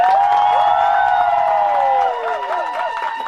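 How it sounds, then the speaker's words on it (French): Wedding guests cheer for the bride and groom with loud, sustained high voiced calls and wavering ululation-like cries that rise and fall over a dense crowd. "Une acclamation pour les mariés."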